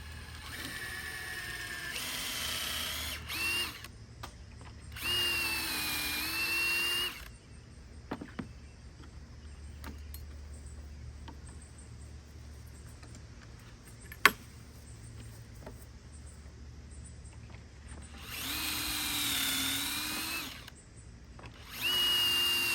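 A drill bores pocket holes through clamped wood held in a Kreg jig, with three separate whirring bursts and quiet stretches between them broken by faint clicks and a sharp tap.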